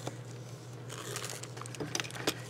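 A blade cutting through a paper coffee filter, soft crinkly scraping and small rustling cuts that come in a few brighter bursts near the end, quiet and close with no voice.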